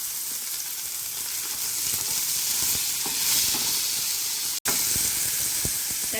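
Chopped tomatoes sizzle as they fry in a pan with sautéed onions, a steady loud hiss and crackle throughout, with stirring scrapes and a brief cut near the end.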